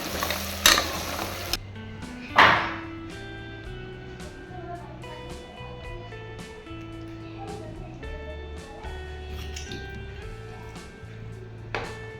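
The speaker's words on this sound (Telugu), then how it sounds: "ఈ కాళ్ళ ముక్కలు అనేవి ఆయిల్లో మంచిగా ఫ్రై అయిపోయినాయి" Mutton trotter pieces sizzle steadily in hot oil for mutton paya, a continuous frying hiss with a couple of louder spatters near the start and a sharp pop toward the end, over a low tonal background.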